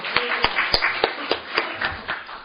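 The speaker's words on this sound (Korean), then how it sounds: "후보자 말씀 듣는 시간 갖도록 큰 박수로 환영해 주시기 바랍니다" Applause at a political party gathering welcomes a candidate to speak, a scattered series of sharp claps from a small crowd, close and distinct rather than a dense roar, with no talk.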